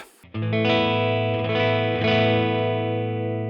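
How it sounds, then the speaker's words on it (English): A single sustained electric guitar chord rings out through an amplifier with no pedals, loud and clean with rich overtones, slowly fading. "Here is the sound of just the amp."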